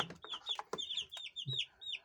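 Three-day-old broiler chicks cheep nearby in quick, repeated high-pitched peeps, several birds overlapping in a busy, steady chorus.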